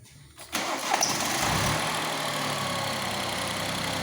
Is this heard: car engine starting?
yes